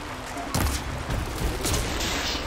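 Rapid weapon fire in Horizon Forbidden West, a quick burst of several close, sharp shots over a noisy in-game background.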